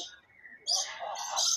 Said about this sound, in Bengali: এখানে রয়েছে স্কারলেট ম্যাকাও, ওই উঁচুতে বসে আছে স্কারলেট ম্যাকাও।